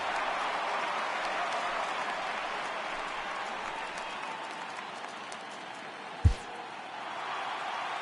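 A home crowd cheers and applauds steadily in the MLB 18 baseball video game during a Padres at Diamondbacks wild card game, a broad, dense roar holding at an even level throughout with one brief thump near the end.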